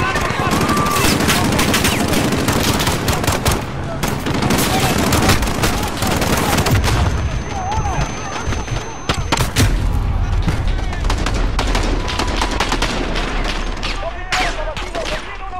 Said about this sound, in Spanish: ¡Están disparando cohetes desde la azotea del edificio!